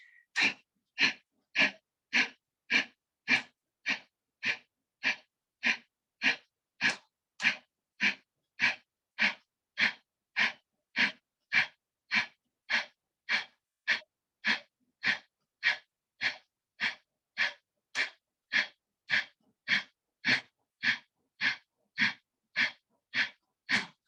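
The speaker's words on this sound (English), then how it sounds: "And holding your breath, you go down and look up and do Kapalbhati for 30 seconds." Kapalbhati pranayama breathing: about forty forceful, sharp nasal exhalations in a steady, fast rhythm roughly twice a second, close and clear, with silence between each puff and no talking.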